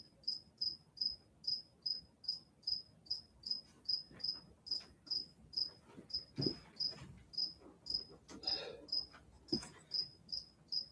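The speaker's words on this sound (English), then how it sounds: "Where is that cricket?" A cricket chirps in steady, evenly spaced pulses, fairly close. Soft handling and rustling noises sit underneath, with no voices.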